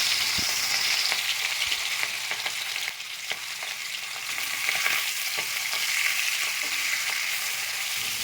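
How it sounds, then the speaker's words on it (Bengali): Fish fry in hot mustard oil in a wok with a steady, close sizzle and spatter, occasional sharper crackles and a brief dip before the frying noise swells again. "তেল গরম হয়ে গেছে, এবার মাছগুলো দিয়ে দেব।"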